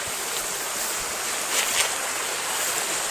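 Water rushing down from a hillside, a steady broadband roar of flowing water with some wind, continuous and fairly loud with no talking.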